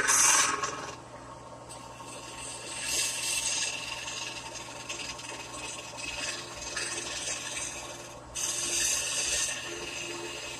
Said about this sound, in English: So here's a scraping cut. And I'll follow that with a series of shear scraping cuts.